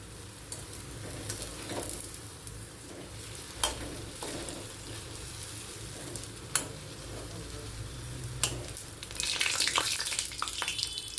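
Coconut milk bonda frying in hot oil make a steady, fairly quiet sizzle with occasional sharp clinks, swelling into a louder, busier bubbling toward the end.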